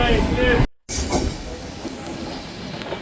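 A superfast unreserved train on the Tambaram to Nagercoil route pulls into Madurai Junction, a loud rail rumble broken by a brief dropout, then steady rolling noise with faint wheel squeal and murmuring voices.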